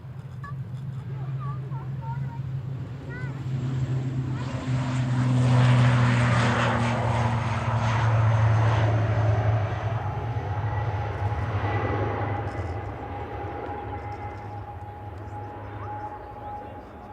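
A propeller airliner takes off at Manchester Airport, its low engine drone rising steadily and growing loud mid-clip before easing away, with a faint steady tone above it and no talking.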